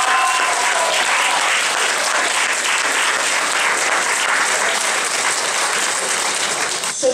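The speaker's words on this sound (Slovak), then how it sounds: "obrovský potlesk si zaslúžia" An audience gives loud, sustained applause for children after a musical performance, a dense clapping crowd that continues steadily throughout.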